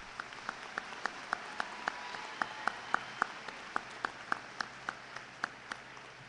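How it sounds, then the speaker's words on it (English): Clapping at a high school commencement ceremony, but only a single, steady, evenly spaced clap repeating roughly three times per second over a faint background hiss, sounding like one person rather than a full audience. "Let's give her a round of applause."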